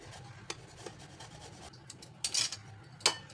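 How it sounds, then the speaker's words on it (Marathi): Peeled sweet potatoes rasped against a hand grater, soft scraping strokes close by, with a few sharper scrapes and light taps in a quiet kitchen. "साल काढून झाले खिसून घ्यायचे।"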